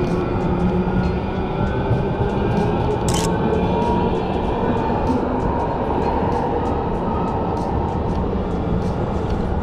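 A train rumbles past steadily on a Houston street for the whole stretch, loud and close, with a broad constant roar and rhythmic clatter; a brief sharp hiss cuts in partway.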